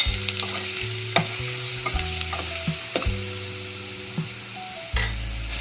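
Crushed ginger fries in a pan for a curry lemon pickle under a continuous sizzle, with a spoon scraping and knocking against the pan in irregular strokes.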